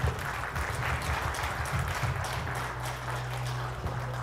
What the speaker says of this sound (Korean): 시장님 큰 박수로 모시겠습니다